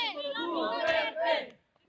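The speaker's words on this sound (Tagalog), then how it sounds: "ang hiyawan ng mga taga-suportang araw-araw nag-aabang sa labas ng ICC Detention Center sa The Hague, Netherlands" Supporters shout outside the ICC Detention Center in The Hague, Netherlands, a short, loud burst of massed voices cheering together that cuts off after about a second and a half.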